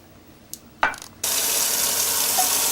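Tap water gushes into emptied tomato sauce cans to rinse them, starting abruptly after a couple of faint clinks and then running as a loud, steady, close rush.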